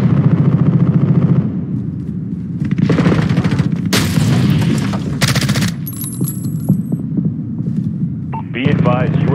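Cruise missile strikes in Modern Warfare (2019), loud booming explosions and crackling blasts arriving in bursts, with a radio-style voice talking near the start and end.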